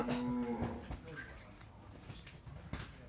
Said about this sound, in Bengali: গাভীটা সুস্থ সবল একটা গাভী, সাথে বকনা বাচ্চা আছে